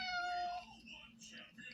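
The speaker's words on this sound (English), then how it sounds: "And that's my cat." A domestic cat meows in a couple of short, high calls up close, indoors, with a quieter stretch of room noise after.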